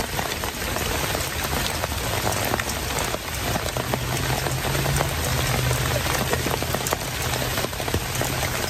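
Steady rain falling outdoors, a dense continuous patter of drops on surfaces, loud and close throughout with no talk.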